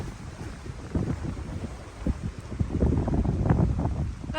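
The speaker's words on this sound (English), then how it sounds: "it's still raining and still windy" Wind gusts and rain patter at a lakeside backcountry campsite in Killarney Provincial Park, a rough continuous rush with irregular buffeting that swells louder toward the end, no voices present.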